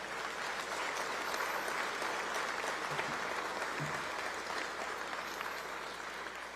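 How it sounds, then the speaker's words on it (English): Sustained applause from an audience at a state legislature's regular session opening address, a dense steady roar of clapping across the whole stretch with no pauses. "Let's give him a round of applause."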